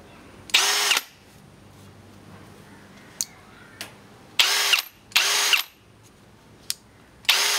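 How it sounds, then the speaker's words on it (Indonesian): A Milwaukee M18 FPD Gen2 cordless hammer drill running in several short bursts of high-pitched whirring, each about half a second to a second long, with a few light clicks and handling noises in the pauses between bursts. "Ada hammer drill."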